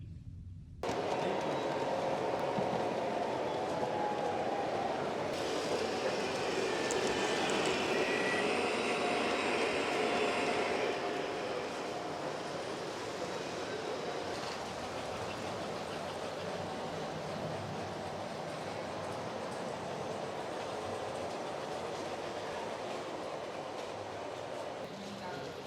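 Model trains rumble and clatter steadily along display tracks at a toy train show, with a busy crowd murmuring and voices talking in the background.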